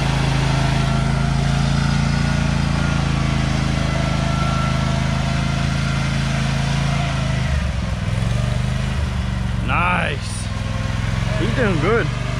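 Racing lawn tractor engine at a tractor time-trial qualifier, a steady droning motor running loud and close throughout, with a brief pitch sweep near the end as another machine passes; people talk over it.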